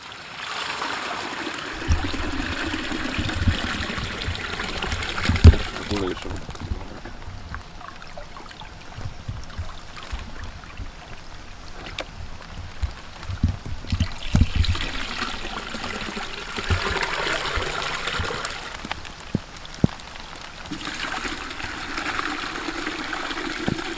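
Water trickles and splashes steadily as it is added to a fish transport container before trout and grayling are released into a mountain river, a continuous close stream with brief louder surges and no talking.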